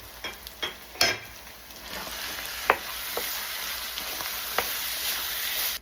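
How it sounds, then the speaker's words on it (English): Cream cheese, mayo and sour cream stirred together in a pan for a bacon cheeseburger dip, with a steady low sizzle and a handful of scraping spoon knocks spread through the mixing. "we're just gonna give that a mix and get that all combined"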